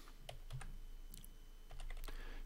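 Keystrokes on a computer keyboard while Arduino Nano code is being written, a brief run of separate clicks with a short pause, close and fairly quiet, with no voice over it.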